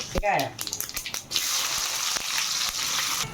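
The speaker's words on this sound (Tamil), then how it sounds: "எண்ணெய் கடுகு பொரியுது." Mustard seeds and fenugreek splutter in hot oil for a dry anchovy fish curry: a brief voice and quick crackles open, then a loud, steady close-up sizzle with scattered pops.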